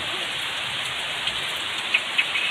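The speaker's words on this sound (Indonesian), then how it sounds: "Hujannya lumayan lebat, bercampur angin." Heavy rain mixed with wind pours steadily over rice fields, a dense constant hiss with a few louder drops spattering near the end.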